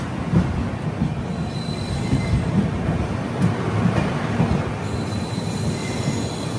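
A Hamsafar Express train pulls out of Tambaram station: a loud, continuous rumble of rolling stock with steady wheel squeal and faint clicks from the rails, with no voices.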